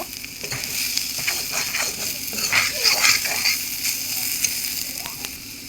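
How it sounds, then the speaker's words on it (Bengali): Food frying in a pan while being stirred, a steady close sizzle broken by scraping spoon strokes and little clinks, with no voice. "দেখো আমি অনেক সুন্দর করে ভেজে নিচ্ছি মিক্স করে নিচ্ছি"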